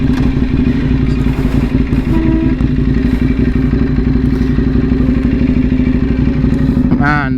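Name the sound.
motorcycle accelerating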